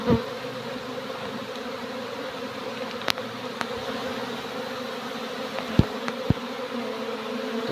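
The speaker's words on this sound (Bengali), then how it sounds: "মৌমাছি ডিভাইডেড হয়, যেটা কুইন বি" Honey bees hum in a steady, dense drone around a swarm dividing with two queens, close by, with a few faint clicks and taps over the buzzing.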